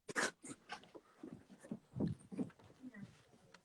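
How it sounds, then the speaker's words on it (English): A dog at home makes restless panting and snuffling noises close to the microphone, with irregular breathy bursts and some faint talking mixed in. "My dog's going to make noise until I deal with him."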